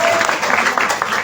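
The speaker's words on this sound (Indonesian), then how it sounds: "Boleh tepuk tangan semuanya Bapak Ibu sekalian" A gathering audience at a religious study meeting claps in a short, dense burst of applause, with voices mixed in.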